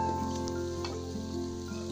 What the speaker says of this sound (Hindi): अब इसको हम प्याज के अंदर मैक्सिमम थोड़ा सा अच्छे से भून लेंगे